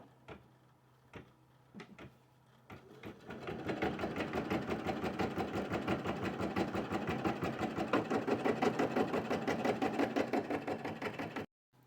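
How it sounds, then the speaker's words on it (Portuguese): A computerized embroidery machine with a 13 x 18 hoop runs its first placement stitch, a steady, close mechanical stitching rhythm that starts after a few soft clicks and continues evenly before cutting off. "A máquina vai fazer para mim a primeira marcação."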